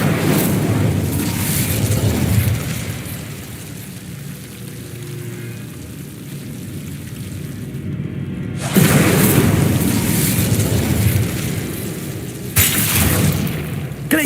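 Incendio fire spell cast in Hogwarts Legacy: loud, roaring whooshes of flame that swell and sustain for several seconds, with a fiery crackling rush that drops off briefly before surging again twice.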